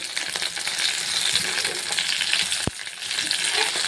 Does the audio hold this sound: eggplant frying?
yes